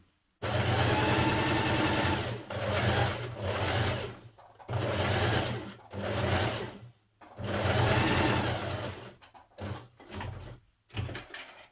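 A sewing machine runs a line of long basting stitches around a dress sleeve, in several loud, close bursts separated by short pauses, with no talk.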